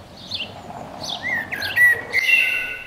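Suburban songbirds chirp and trill in short, clear phrases, a few quick calls building into a brighter, sustained warble toward the end, fairly close against a quiet background.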